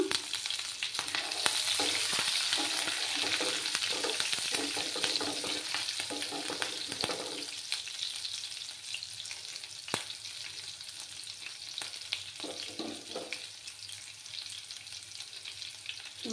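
Green chillies sizzling and frying in a pan for a vegetarian Bengali dinner, a steady close crackle with occasional stirring scrapes, fading slightly toward the end.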